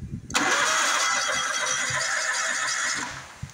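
A lawn mower's small engine is cranked with the key but fails to start because of a no-spark fault. The starter churns loudly and continuously for about three seconds, then cuts off.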